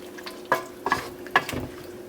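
Side dish for smoked whole trout simmering in a pan, with a few soft stirring scrapes and brief bubbling sizzles over a low steady background.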